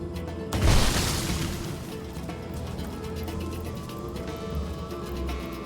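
A trap in the video game Divinity Original Sin goes off in one loud, sudden blast, followed by a long rumbling decay beneath steady game ambience.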